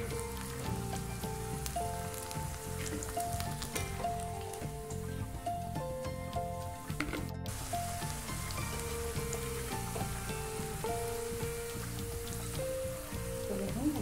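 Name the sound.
cauliflower frying in oil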